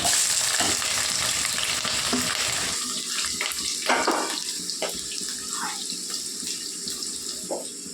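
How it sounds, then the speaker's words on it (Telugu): Four green chillies sizzle in hot cooking oil in a pan, a steady loud hiss that runs throughout, with a few clatters of stirring on top. "పచ్చిమిరపకాయలు 4 అండి వేసుకున్న నూనెలో"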